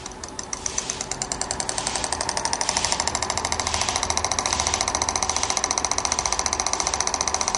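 Keppe motor running with its propeller removed, a fast steady mechanical chatter of rapid regular pulses that builds up over the first couple of seconds and then holds, close and clear with no talking.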